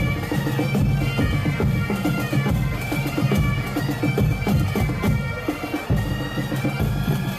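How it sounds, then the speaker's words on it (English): A rowdy festival crowd at the Entierro de la Sardina, the Burial of the Sardine in Madrid, roars in a dense, continuous wash of voices and clatter throughout, loud and close. "the rather rowdy noise you can hear, by the way, was recorded last year at the Entierro de la Sardina, the burial of the sardine"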